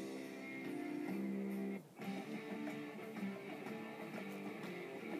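A rock song plays faintly in the background from a music library, with guitars and a steady beat, briefly dipping before continuing at low volume.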